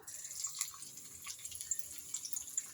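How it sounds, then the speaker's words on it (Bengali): Chopped garlic dropped into hot white oil gives a faint, fine sizzle with small scattered pops and crackles, quiet and steady throughout. "তেলটা আমার গরম হয়ে গেছে। এবার আমি তেলের মধ্যে দিয়ে দিতে চলেছি রসুন কুচিগুলো"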